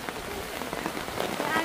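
Steady rain falls on a surface in a dense, even patter, close and fairly loud throughout, with faint voices in the background.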